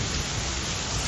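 Heavy rain with hail pours down steadily on a road where a tree has fallen, a dense unbroken wash of noise with no voices.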